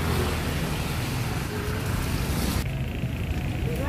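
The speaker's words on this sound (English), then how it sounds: "So right now I am at the jeepney station." Heavy, continuous roar of traffic and rain noise at a jeepney station in the Philippines, loud and dense throughout with engines rumbling, the wash thinning abruptly near the end.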